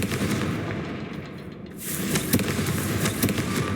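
Confringo blasting spells explode in Hogwarts Legacy: a string of sharp gunfire-like blasts crackles over a rumbling background, dips briefly, then resumes with repeated close bursts.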